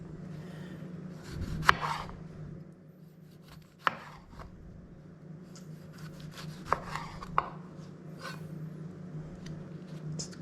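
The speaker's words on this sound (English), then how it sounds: "where we shall slice our tomato." A knife cuts through a tomato on a kitchen board, a few soft, quiet strokes and taps spaced apart over steady low background hum.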